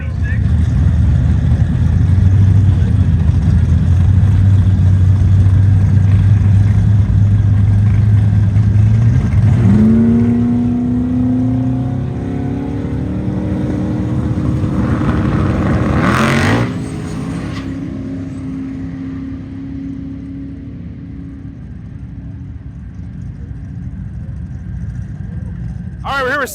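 Drag race cars at Byron Dragway, including a 2.8 S10, roar down the strip, a loud engine drone rising in pitch through gear changes before fading, with an announcer talking over it.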